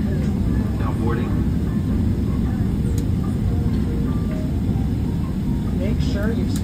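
Jet engines of a United airliner at San Francisco airport give a steady, loud low roar that holds throughout, with cabin announcements spoken over it.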